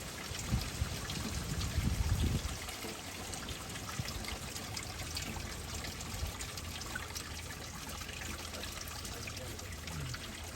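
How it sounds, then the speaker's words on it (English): Steady water trickling from a small dark-painted garden fountain set in a former driveway, a continuous gentle splash with a brief louder gush near the start. "don't miss this very fun fountain or water feature"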